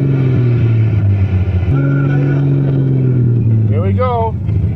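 A Toyota Cressida engine runs loud and close with a strong low drone, rising and shifting in pitch as the car pulls away, with voices speaking over it.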